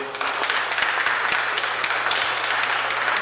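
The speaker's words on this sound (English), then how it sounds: "Ladies, can you give the men a round of applause" A graduation crowd gives the men a round of applause, dense steady clapping from many hands that stays even throughout.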